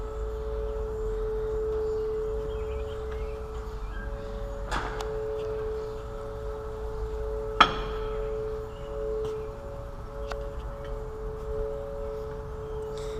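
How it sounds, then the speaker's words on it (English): Oklahoma tornado sirens sound their weekly Saturday noon test as a steady, sustained distant tone under faint background noise and a couple of sharp knocks. "every Saturday they run those tornado sirens right at 12 o'clock to test them"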